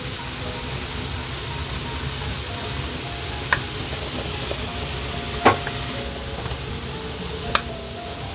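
Par-cooked rice for yellow rice is stirred in a large wok, a low continuous scraping rumble with a few sharp metallic clinks of the spatula against the pan.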